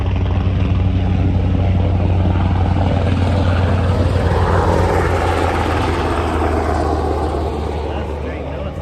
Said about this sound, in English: that's a military chopper